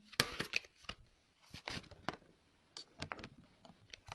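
Tarot cards being shuffled by hand, a run of quick dry riffles and soft slaps in irregular bursts with short pauses between, close and fairly quiet.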